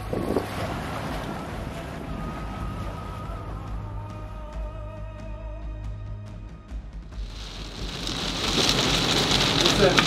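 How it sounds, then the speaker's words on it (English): Steady rain patters on a sailboat, with a broadband hiss that thickens toward the end, plus faint creaks and tones. "But rain! We've got rain!"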